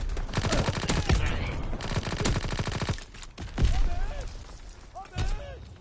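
Rapid bursts of WW2-era automatic gunfire in a shooter game, two long rattling volleys followed by scattered single shots, with someone talking over parts of it.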